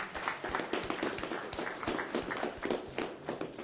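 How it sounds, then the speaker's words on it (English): A crowd at a community forum gives a round of applause for a team, dense overlapping clapping that holds steady for several seconds, fairly near and continuous. "they deserve a round of applause too"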